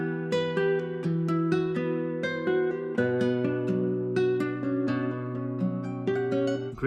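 Dark-toned guitar sample processed with EQ, vinyl crackle, reverb and delay, playing a steady rhythmic pattern of plucked notes over sustained low chords, loud and continuous without talk.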